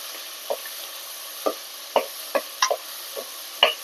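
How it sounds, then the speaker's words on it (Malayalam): A spoon stirs vegetable biryani masala in a pan, giving scattered soft scrapes and taps roughly every half second over a faint background hiss, close by and fairly quiet. "നന്നായിട്ട് ഇളക്കി കൊടുക്കാം"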